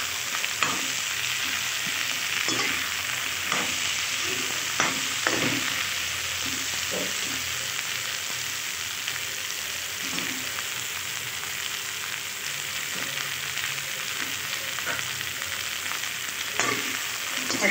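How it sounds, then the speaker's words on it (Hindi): Soybeans frying in a pan are stirred again and again, with a continuous loud sizzle throughout and scattered soft scrapes and knocks from the spoon against the metal. "अच्छे से हिलाते रहेंगे हम इस तरह से"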